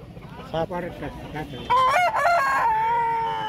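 An Aseel rooster at a village market in Kashipur clucks a few times, then lets out a loud, close, drawn-out crow that trails off slowly.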